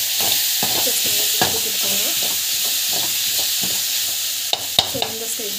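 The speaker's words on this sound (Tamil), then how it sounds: "அதை போட்டு நல்லா வந்து வதக்கிக்கோங்க" Crumbled paneer bhurji frying in a pan while being stirred, a constant sizzling hiss with repeated scraping strokes of the spoon and a couple of sharp knocks near the end, close up.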